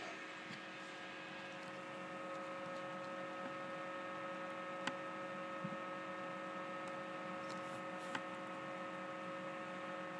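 The slow motor of a homemade incubator's automatic egg turner gives a steady low electrical hum with faint scattered ticks, continuous and close.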